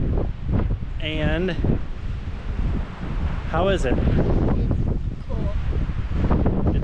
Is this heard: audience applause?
no